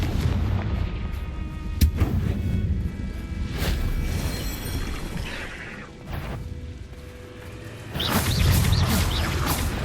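Booming blasts from the Confringo fire spell in the Hogwarts Legacy video game, with several heavy explosions and whooshes spread across the fight. A dense burst of impacts comes near the end.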